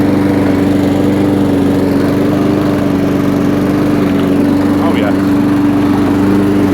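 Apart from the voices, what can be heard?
Honda 135cc petrol Champion lawnmower engine running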